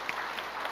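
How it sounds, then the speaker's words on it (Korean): A church congregation applauds during a worship service, a dense, steady wash of many hands clapping at moderate distance, filling the short moment without any talk on top. "멤버들 박수 한번 해주시기 바랍니다."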